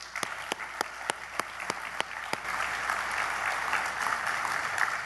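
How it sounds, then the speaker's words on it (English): An indoor conference audience claps for a few seconds, individual sharp claps at first, then swelling into dense, steady applause from the whole room. "Can we give Mindy a round of applause?"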